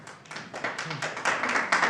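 Applause from the audience at a town council meeting, a brief burst of clapping that builds slightly over two seconds, moderately loud with a dense patter of hands and no clear talk over it.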